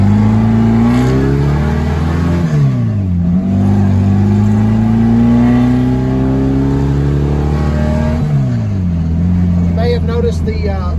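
A VW Super Beetle fitted with Holley Sniper EFI revs loudly and close up, its engine note climbing and falling through several rev cycles with a steady drone between them.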